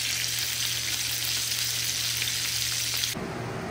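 Fish frying in a little cooking oil for sarsyado gives a steady, close, bright sizzle that drops abruptly near the end.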